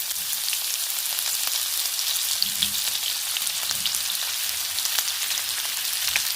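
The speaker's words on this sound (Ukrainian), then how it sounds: "І тепер кладу туди надрубно покришену цибулю." Finely chopped onion frying in rendered pork fat, a steady close crackling sizzle with light pops throughout and no talking.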